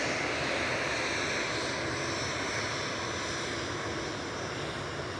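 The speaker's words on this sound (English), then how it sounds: "Just touching down from New York JFK there is the Virgin Atlantic A350 1000" A Virgin Atlantic Airbus A350-1000 arriving from New York JFK touches down at Manchester Airport, giving a steady, broad jet roar at moderate distance that holds level throughout.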